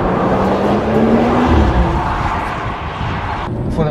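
A BMW 540i G30 sedan being driven, its engine a steady low drone with a gentle rising pull, heard from inside the car over road and wind noise, with someone talking briefly.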